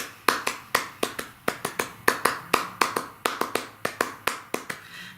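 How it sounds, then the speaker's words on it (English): Steve Reich's Clapping Music, performed as sharp, close hand claps in a quick, uneven repeating pattern, about twenty crisp claps over several seconds with no voices. "Reich's clapping music would be a fantastic piece to listen to"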